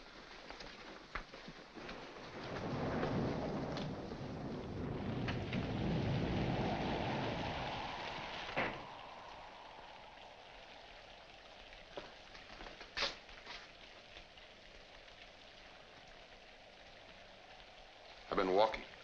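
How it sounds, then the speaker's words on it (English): Steady rain falls and thunder rumbles in a 1946 classic horror film scene, a soft hiss with a long low roll of thunder swelling early then fading, with people talking at moments. "In this rain? Yes, in this rain."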